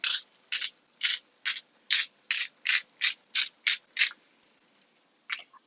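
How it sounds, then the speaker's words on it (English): A hand-cranked Himalayan salt grinder rasps in about eleven quick, evenly spaced grinding strokes, close and crisp, followed by a pause and one final short turn. "So let's do Himalayan salt. Himalayan salt. Give it a couple cranks."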